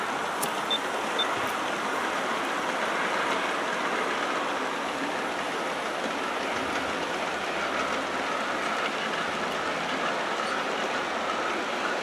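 Aristo large-scale model train with a long string of 41 cars and a caboose running outdoors, giving a steady, continuous rolling rush and clatter of wheels on track with no pauses.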